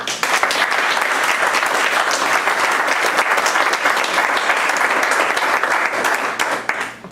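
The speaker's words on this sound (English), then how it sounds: "would you kindly applaud my friend Richard" A seminar audience on Indian cultural history applauds speaker Richard Meadow, with sustained, even clapping from a fairly large crowd lasting about seven seconds, no voices over it.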